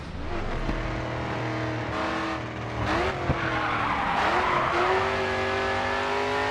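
A Grid 2 race car drifts under a loud, steady engine roar, its tires skidding and squealing in sweeping slides with a brief rev, sustained and close throughout.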